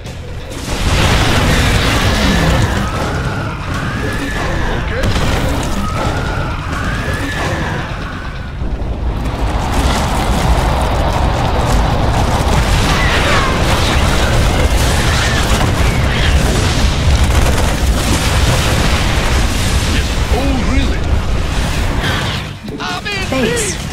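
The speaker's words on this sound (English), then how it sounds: "Warning. Seismic disturbance detected." A Nidus worm bursts up out of the ground in StarCraft II with a loud, sustained rumbling roar and crunching blasts. An in-game announcer voice and warbling battle effects play over it.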